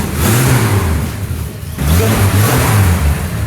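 Car engine on a hopelessly broken project car in Australia, revving loudly and steadily at close range in two sustained bursts with a brief dip between, then cutting off at the end; no talking.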